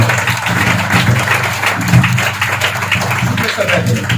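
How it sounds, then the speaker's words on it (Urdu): A church congregation applauds loudly during a worship service, a dense, steady wash of clapping that fills the whole stretch at close range, with voices mixed in underneath. "آئیے زوردار تالیوں کے ساتھ روح قدس کو ہم ویلکم کریں گے۔"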